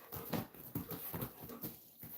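Large dog moving around indoors close by, with soft shuffling and paw steps and faint whimpers in a fairly even rhythm.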